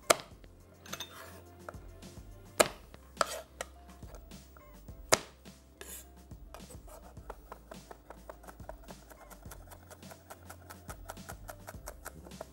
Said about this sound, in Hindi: लहसुन को कुचल लें